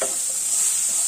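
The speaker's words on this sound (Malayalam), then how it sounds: "ഇടയ്ക്കിടയ്ക്ക് ഇളക്കുക." Chopped tomato masala sizzles in a pan for a pepper squid roast, a steady loud frying hiss close up with a brief stir at the start.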